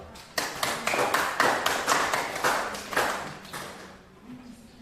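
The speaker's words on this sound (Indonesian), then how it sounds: "kita tepuk tangan untuk kelompok 2" A classroom group applauding their classmates after a presentation, a burst of lively hand clapping of about three seconds that fades into quiet, with a faint voice near the end.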